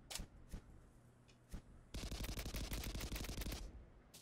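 Gunfire from shooting in the Kunai video game: a few isolated shots at first, then a rapid machine-gun-like burst of dozens of sharp shots for about two seconds before trailing off.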